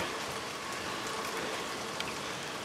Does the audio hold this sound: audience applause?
no